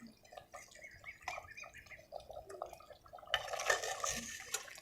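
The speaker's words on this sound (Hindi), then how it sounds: "अभी देखें पानी की बबल्स बन रही हैं।" A pot of village-style meat curry simmers with soft, irregular bubbling and small pops close by, quiet at first and busier toward the end, with no talking.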